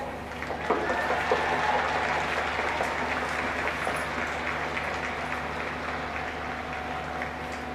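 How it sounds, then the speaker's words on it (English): A crowd at a ladies' Gaelic football intermediate championship final claps and cheers in a sustained, dense wash of applause that swells at the start and carries on steadily with no talk over it. "So, can we give a big cheer for MKL?"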